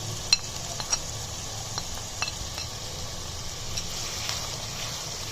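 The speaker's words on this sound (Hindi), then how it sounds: "और अब हम इन मसालों के साथ भी प्याज को भूनेंगे" Onion paste fries in a pan with salt, red chilli, turmeric and coriander powder while being stirred, a soft steady sizzle with occasional faint scrapes and clinks, quiet and close, no voices.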